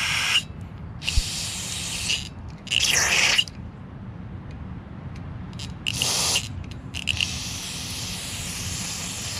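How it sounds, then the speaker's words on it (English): Carburetor cleaner sprayed onto the carburetor of a Craftsman 20HP DLS3500 lawn tractor, heard as several sharp hissing bursts of varying length, with a longer spray near the end, over a low background rumble. "Normally with carb spray, you blow up this gasket."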